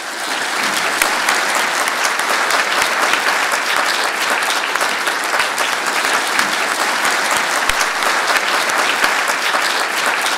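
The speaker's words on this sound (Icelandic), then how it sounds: "ég ætla að biðja ykkur að standa upp og eigum ekki að klappa fyrir þeim" A hall audience applauds the winners in a dense, steady roar of clapping that stays loud and even for about ten seconds, with no voices over it.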